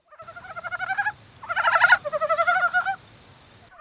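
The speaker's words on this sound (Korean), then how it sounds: "가장 먼저 겨울잠에서 깬 큰 산 개구리의 울음소리가 공개됐는데 직접 들어보시죠." Dybowski's brown frogs, the first amphibians out of hibernation, calling from water in a repeated series of hoarse, pulsing croaks; several callers overlap into a loud chorus midway before one voice trails off, with no talk.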